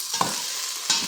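Onion and garlic sizzling in olive oil in a saucepan, a steady close hiss with a couple of brief stirring clatters near the start and end.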